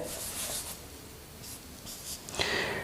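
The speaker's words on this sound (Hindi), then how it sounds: "तो चलिए लिखते हैं" Pen writing on paper close up, soft scratchy strokes in short bursts with brief pauses, no talk.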